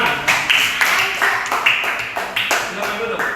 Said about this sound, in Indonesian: Tepuk tangan buat kelompok panas.